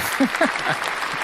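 Short applause sound effect fired during a live chat stream, a brief burst of clapping and light crowd noise, with someone speaking over it.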